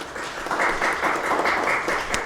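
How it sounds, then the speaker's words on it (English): Audience applause for young innovators at a youth challenge launch event in Zimbabwe, a dense burst of clapping that swells and continues steadily for a couple of seconds. "I think we deserve to give you guys a round of applause for all the young people who've made it today"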